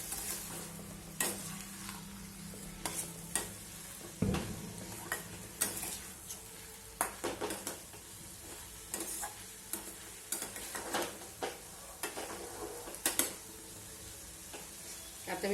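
Eggplant bharit being stirred in a pan: repeated scraping and clatter strokes at an irregular rhythm over a low, steady sizzle, fairly close and moderately loud, with no talking.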